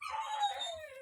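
A puppy, the last one left in its litter, gives a single high, wavering whimpering cry close by, sliding downward in pitch.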